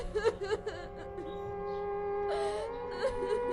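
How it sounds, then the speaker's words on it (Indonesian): Faint wailing cry of a woman used as a horror story effect, thin whimpering and moaning tones rising and falling, with a long drawn-out wail mixed under a narrating voice. "sebuah tangisan lirih, seperti suara perempuan yang meratap"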